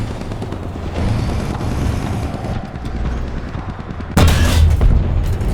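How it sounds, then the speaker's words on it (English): Anti-air guns firing in War Thunder, rapid rumbling bursts of gunfire through a battle din, ending in a loud close blast near the end; no talk. "Seen anti-air firing."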